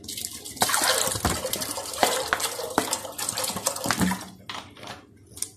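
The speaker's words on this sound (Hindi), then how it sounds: "हाफ लीटर पानी डाल रही हूँ" Half a litre of water poured into a cooking pot for boiling chickpeas, a steady close splashing stream with clinking at the start and tapering off near the end.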